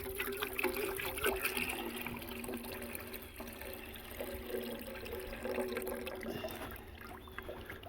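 Maple sap pours into a boiling pot with a continuous watery splashing and trickling that stays fairly loud and close throughout, with no talking.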